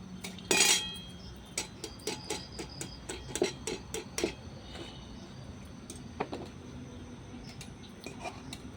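Fried jackfruit chops are lifted out of a frying pan, with a sharp metallic clank at the start followed by scattered lighter clinks and taps of a utensil against the pan over a faint background hiss.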